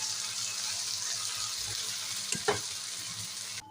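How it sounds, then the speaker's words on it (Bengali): Water poured into a sizzling pan of mixed vegetable curry with paneer, a brief splash and hiss rising over steady frying and stirring noise, close by and fairly quiet. "অল্প একটু জল দিলাম"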